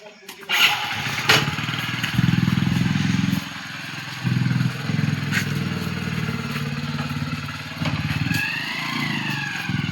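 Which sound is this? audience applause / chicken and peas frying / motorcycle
motorcycle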